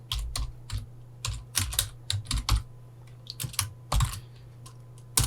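Typing on a computer keyboard, with bursts of close, crisp keystrokes and short pauses between runs, over a faint steady hum.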